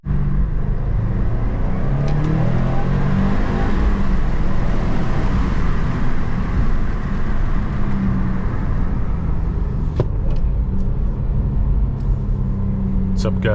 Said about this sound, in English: Today we got the WRX STI again in the video.